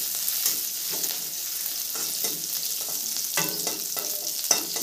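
Chopped green chilli fries on a high flame, a loud bright hiss and sizzle with a few sharper spatters and scrapes, heard up close and alone.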